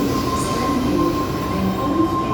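A track inspection train runs through Town Hall underground station in Sydney, a loud steady rolling roar with a squealing wheel tone and faint clatter, heard close on the platform.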